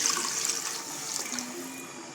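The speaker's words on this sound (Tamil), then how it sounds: "இப்போ வந்து தண்ணி சேர்த்துக்கலாம்" Water is poured into a pan of Chettinad chicken gravy, making a continuous close gushing splash that runs steadily throughout.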